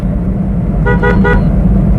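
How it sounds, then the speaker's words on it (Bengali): A car horn gives three short toots in quick succession over a low city traffic rumble. "আর সিটিতে অবশ্যই হর্ন ব্যবহার করবেন"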